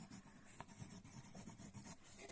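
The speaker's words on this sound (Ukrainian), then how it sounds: "Я пишу обов'язково дату, коли я поставила." A pen scratches a date onto a cardboard mushroom growing box in quiet, faint rubbing strokes with small taps, close by and without speech.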